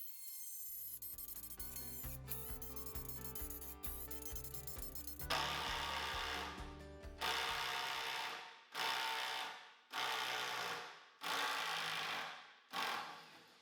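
A Milwaukee cordless drill drives bolts, starting with a rising motor whine through repeated short trigger pulls, then a series of loud grinding bursts that bog down and cut out as it strains with overheating.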